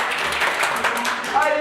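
Applause from a studio audience on a comedy game show, close, brisk clapping layered with voices and chatter.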